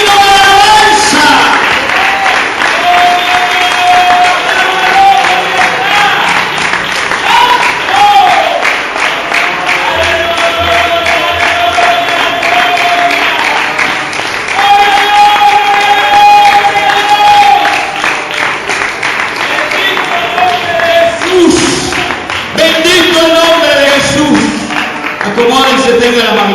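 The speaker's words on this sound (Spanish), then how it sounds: "¿Cuánto le dan un aplauso a Él en esta mañana?" A church congregation applauds during a Spanish-language service, sustained clapping and crowd noise mixed with music and voices throughout.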